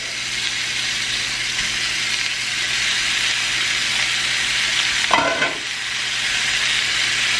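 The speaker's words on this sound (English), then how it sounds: "I'm gonna start adding in the ground beef" Ground beef, still partly frozen, fries in a pan with a steady loud sizzle and hiss, broken by a brief scraping stir midway before the sizzling carries on.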